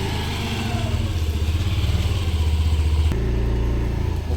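A new scooter engine runs with a steady, throbbing mid-pitched hum and slight rattling, close and fairly loud, shifting to a slightly different tone near the end.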